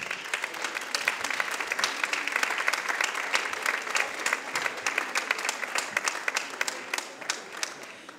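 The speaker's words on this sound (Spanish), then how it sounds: "Vamos a darle un fuerte aplauso." Applause for a municipal music band at an autumn concert, a dense, steady wash of many hands clapping that fills the hall and fades slightly at the end.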